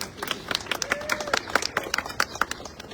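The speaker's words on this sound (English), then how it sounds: "You can clap for that." Applause at an outdoor SEPTA rally press conference at Chester Transportation Station, sharp scattered claps from a small crowd, fairly close, with murmured voices underneath.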